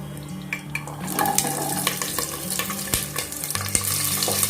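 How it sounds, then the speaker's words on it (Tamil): Shallots, green chili, garlic and cumin sautéing in hot oil, a close, busy sizzle with scraping and clinks of a spoon stirring against the pan, no voices. "இதை லேசாக வதக்கி விட்டுக்கலாம்."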